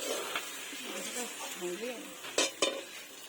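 Meat being stir-fried hard in a home-style curry pan, a steady sizzle broken by scraping stirs and two sharp spatula knocks against the pan near the end, with a voice talking faintly underneath.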